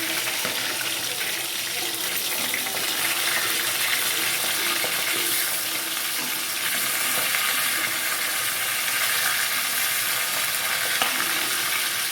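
Vetki fish fries in plenty of oil, making a dense, even hiss of sizzling that runs unbroken and fairly close.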